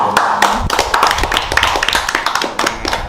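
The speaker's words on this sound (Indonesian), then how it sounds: "Kita luar biasa, tepuk tangan." A short round of brisk applause from a small group, dense and close, lasting a few seconds.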